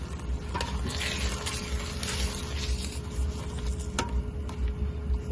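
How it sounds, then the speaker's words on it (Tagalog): Pork menudo being stirred in a frying pan, a steady close sizzle and frying hiss with soft scraping of the spoon, continuous and without talk. "At haluin natin ng haluin para hindi po masunog"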